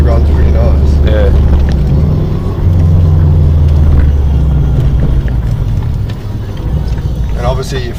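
A Subaru Forester fitted with an STI 6-speed gearbox accelerates hard through the gears, its loud engine drone rising and dropping at each shift, with people talking over it inside the cabin.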